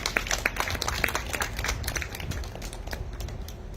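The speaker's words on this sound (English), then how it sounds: "So give yourselves a round of applause." Scattered applause from a campaign kick-off crowd: loose, uneven claps at moderate distance that thin out toward the end.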